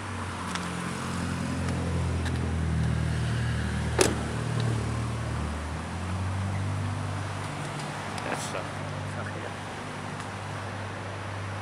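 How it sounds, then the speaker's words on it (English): A truck rolls along the main street of Kaikohe, a low steady engine rumble held at moderate distance against faint town background, with a couple of brief sharp knocks standing out. "There's the truck there."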